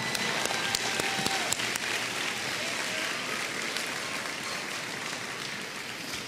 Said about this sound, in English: Yes, let's give them a round of applause.